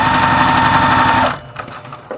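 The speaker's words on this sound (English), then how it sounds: "I'm just going to do a 1/4 inch seam." A sewing machine runs steadily through a quarter-inch quilt seam in fat quarter sampler fabric, a loud continuous whir for about a second and a quarter, then stops, leaving faint clicks and handling noises.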